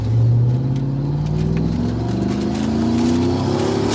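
A car engine revs hard during a street race, a loud, close roar that climbs steadily in pitch through the gears, with a deep rumble underneath and no talking.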